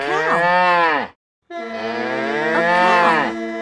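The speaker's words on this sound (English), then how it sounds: "A cow." A cow moos twice, loud and close, each call a long drawn-out bellow with a brief silent gap between them, produced by a toy sound machine in a children's first-words cartoon.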